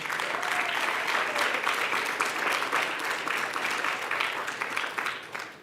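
Steady, loud applause from an audience at a 50th anniversary celebration gala, dense clapping sustained throughout and tapering slightly at the end.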